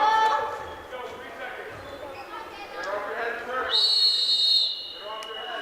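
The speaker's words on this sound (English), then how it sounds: "And there's the whistle for the end of the first bout." A sharp, high referee whistle blows once near the end to close a girls' varsity wrestling bout in a gym, loud and sustained for about a second over crowd chatter and mat thuds.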